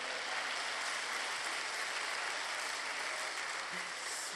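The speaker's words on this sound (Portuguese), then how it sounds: "aplauda o nome dele" Steady congregation applause fills a church revival service, dense and continuous from start to finish at an even level with no voices over it.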